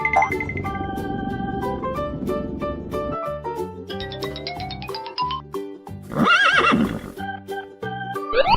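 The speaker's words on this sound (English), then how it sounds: "Horse." A horse neighs among bright cartoon music and tones in a children's learning animation, the whinny rising and wavering briefly near the end over the melody.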